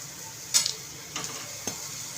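Sprouted moth beans are stirred with fried spices in a pan, a soft sizzle under three brief scraping strokes of a spoon, close and quiet.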